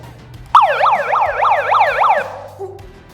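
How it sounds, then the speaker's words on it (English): A loud siren wails in about six quick rising-and-falling cycles, starting abruptly and stopping after under two seconds, over a low background hum with a brief tone afterward. "you would not want to use your siren if you were at a golf tournament"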